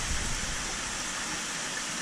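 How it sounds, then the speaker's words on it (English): A stream fed by several combined water sources flows steadily at about 10,000 gallons a day, a dense, constant rushing wash with no pauses. "all of those streams that you just saw are combined to make this stream"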